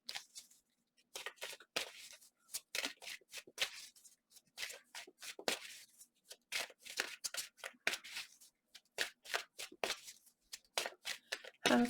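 Tarot cards shuffled and drawn in a love reading, crisp riffling and flicking bursts repeating close up with brief pauses between, loud and lively with no talking.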